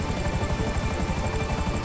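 A helicopter in Grand Theft Auto, during a prison break heist, gives off a steady, loud rotor thrum and engine drone that fills the brief moment without letup.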